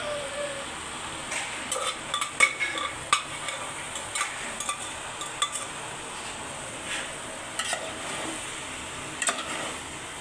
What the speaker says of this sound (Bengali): এখন কাঁঠাল এঁচোড়ের ভিতরে ছোলার ডাল দিয়ে দিবে।